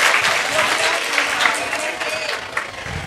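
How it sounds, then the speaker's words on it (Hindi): An audience claps for a student named Saima at a career guidance programme, a steady burst of hand-clapping held at an even level for about three seconds, with a few voices faintly mixed in. "साइमा के लिए ताली बजा दीजिए."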